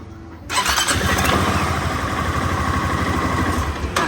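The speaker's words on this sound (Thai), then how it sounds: "แล้วก็ทำการสตาร์ทรถก่อน" A Honda Forza 350 scooter engine cranks and fires after a brief quiet moment, then settles into a loud, steady close-up idle with a rhythmic low throb that runs for several seconds.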